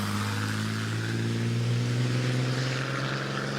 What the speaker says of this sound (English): Ron is followed by this Hudson Super 6 of James Collins